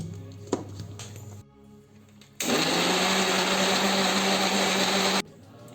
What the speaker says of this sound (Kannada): ಇವಾಗ ಇದಕ್ಕೊಂದು ಸ್ವಲ್ಪ ನೀರು ಹಾಕ್ಕೊಂಡು ಇದನ್ನು ಫಸ್ಟ್ ರುಬ್ಕೊಳ್ತೀನಿ.